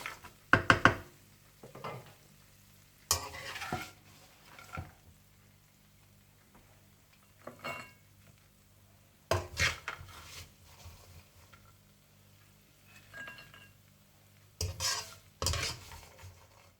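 Raisins and melon seeds frying in ghee in a pan while being stirred, intermittent scraping spoon strokes and clinks of metal over a faint sizzle, close, with quiet gaps between bursts.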